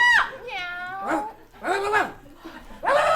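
A person imitates a cat with several drawn-out, pitch-bending meows in a row, loud and close, voiced in a playful, exaggerated way.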